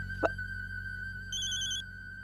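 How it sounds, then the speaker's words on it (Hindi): A phone rings in an indoor scene of a Hindi TV comedy-drama, with a sharp click followed by a steady electronic ringtone tone that thickens into a brighter trill near the end, loud and alone with no talk. "डीएसपी सर का फोन आ रहा है।"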